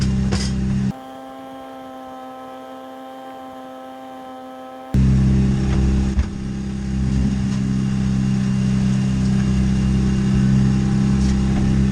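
A boat motor runs steadily while motoring along the Intracoastal Waterway, a loud close low droning rumble with a tonal hum, briefly giving way to a steadier electric-sounding hum before the engine noise returns.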